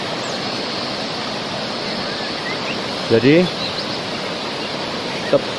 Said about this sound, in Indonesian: air terjun Luceret ini ada di Kabupaten Nganjuk, Kecamatan Luceret. Tepatnya di lereng Gunung Wilis.